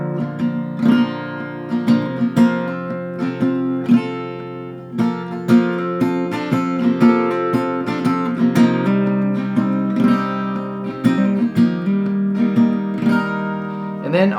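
Acoustic guitar strumming the chord progression of a song at beginner level, steady repeated strums ringing out clearly and alone at a moderate tempo.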